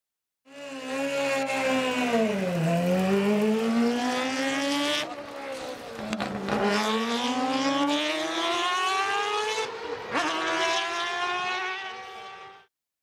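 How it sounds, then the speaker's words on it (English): A Wankel rotary engine revs hard, a buzzy, harmonic-rich whine that rises and falls in pitch through several sweeping revs, loud and alone with no talking. "This is why rotary engines sound so different from the typical"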